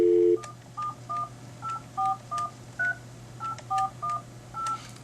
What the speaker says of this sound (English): Okay, so I'm calling my phone right now,